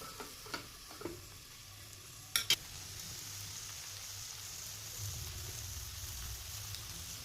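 Small potatoes with tomato, turmeric and Kashmiri chilli cook in a covered pan, giving a steady soft sizzle and bubbling, with a few early stirring clicks and a couple of sharp lid or utensil knocks.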